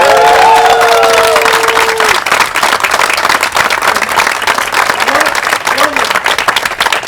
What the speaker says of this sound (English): So let's give all of our athletes a round of applause.